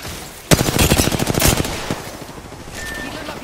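Rapid automatic gunfire in Apex Legends on King's Canyon, a loud close burst of about a second and a half of evenly spaced shots, followed by fading echoes and a short beep.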